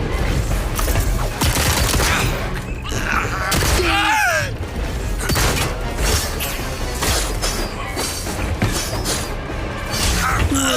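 Rapid gunfire in the Deadpool VR video game, dense bursts of shots mixed with crashes and clanks running throughout, with a voice talking over the action.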